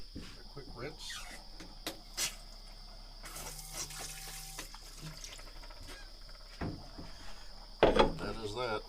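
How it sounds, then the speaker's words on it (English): A tap runs water in a sink for a quick rinse, a faint steady trickle with clattering and a louder splash near the end, and some speech in the background. "Quick rinse."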